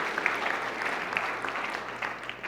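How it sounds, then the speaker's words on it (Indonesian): A church congregation gives a fairly quiet, even round of clapping that stays steady for a few seconds with no voices over it. "Ya boleh beri tepuk tangan, haleluya."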